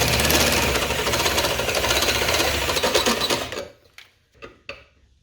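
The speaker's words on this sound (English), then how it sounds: "I'm gonna open it up with a step drill here, step drill bit" A loud, steady grinding whir of a step drill bit cutting metal on a 1983 Buick Regal lowrider for about three seconds, then it stops, followed by a few faint clicks and taps.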